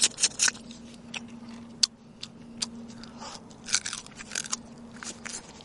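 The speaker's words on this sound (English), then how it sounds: "Just bite it and chew out the meat." Crab meat being bitten and chewed up close, with sharp crunches and crackles at the start and scattered crunchy bites throughout, over a faint steady hum.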